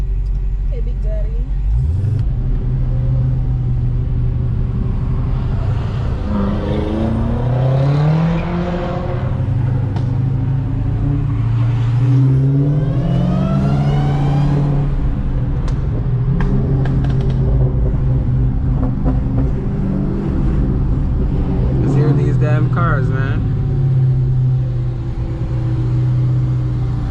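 A Dodge SRT Hellcat rumbles steadily from inside the cabin while driving in traffic, with rising and falling engine revs and a few exhaust pops, people talking over it throughout.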